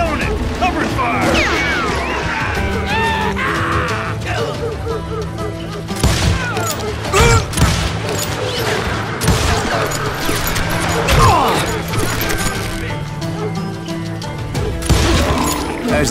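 Gunfire in the Western shooter game Call of Juarez: Gunslinger, a loud dense fusillade of shots and impacts over a steady battle backdrop, with voices calling out between bursts.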